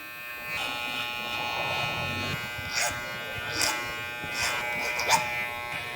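Electric hair clippers edge along a neckline during a haircut, giving a faint buzzing that comes and goes in short passes over a quiet room with light background noise.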